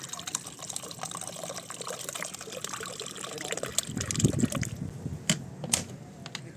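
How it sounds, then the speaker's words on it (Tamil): Water is poured into a homemade herbal lemon juice made with lemons from a terrace garden, a close, steady splashing and trickling that grows slightly fuller toward the end, with no talk. "அடுத்ததாக தண்ணி ஊற்றுறோம்."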